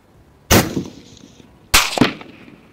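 Two loud rifle shots fired through a Vortex Diamondback Tactical first focal plane riflescope at a 200-yard range, each a sharp crack with a short ringing echo, spaced about a second apart.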